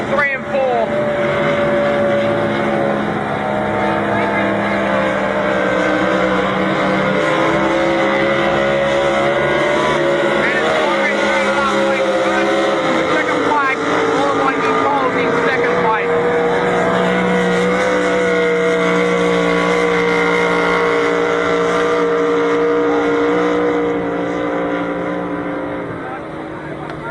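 Racing powerboats on a lake, a sustained loud engine drone whose pitch wavers and shifts as the boats run through the turns, with a commentator talking over it throughout.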